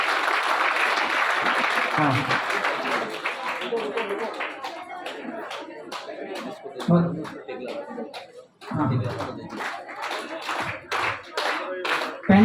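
Crowd clapping in a college auditorium during a youth festival prize announcement, swelling in bursts of separate claps between spoken remarks, with voices talking over the hands.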